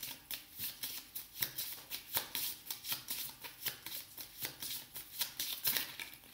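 Deck of 32 cards being shuffled up close, a run of quick, crisp riffling bursts in a steady rhythm, with no speech.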